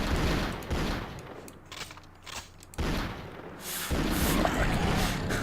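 Upgraded pistol gunfire in the zombie shooter game Touch the Dead rattles in dense, loud volleys, easing briefly mid-clip before the shooting picks up again in a steady barrage.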